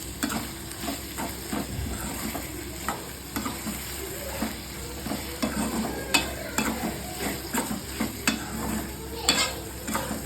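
Dried fish stirred and sizzling in a hot pan, with a steady frying hiss and repeated scraping knocks from a spatula, close up and without talk.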